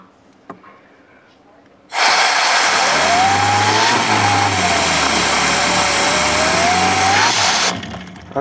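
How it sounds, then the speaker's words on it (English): Small model air turbine jet engine, spun by a little 6-volt brushless motor with a slightly unbalanced coupler, roars up loud and close with a steady broadband whine and rising tone for about six seconds, then cuts off. "I want to see how much power this has with this little 6-volt brushless motor"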